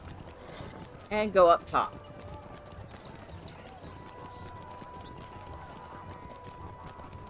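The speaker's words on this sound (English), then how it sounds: "Get on our horse." Horse hooves clip-clop in The Lord of the Rings Online during a Midsummer Festival outing, with a short whinny-like burst early on; someone talks briefly over the steady in-game ambience.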